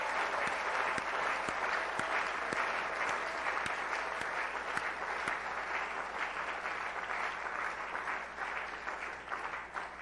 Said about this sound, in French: Est-ce qu'on peut acclamer pour dire merci à Dieu?